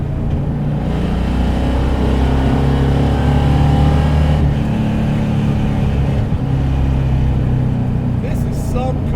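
A 515-horsepower, LS V8-powered 1988 Mitsubishi Starion is under hard acceleration. A loud, close, sustained engine roar with a heavy low drone holds almost unbroken throughout.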